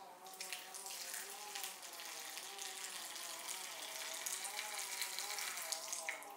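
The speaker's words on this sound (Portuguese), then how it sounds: "A gente vai hidratar, ó. Vai botar o mínimo de água possível nelas." Water poured from a vessel onto dried kombu seaweed to hydrate it, a steady close splashing trickle running unbroken throughout with no voices.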